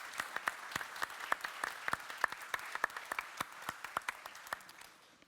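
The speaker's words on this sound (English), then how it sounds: "I think it deserves a round of applause." Audience applause at a Web3 crypto panel in Paris, a dense run of clapping with distinct sharp hand claps punctuating it, moderately loud and tapering off toward the end.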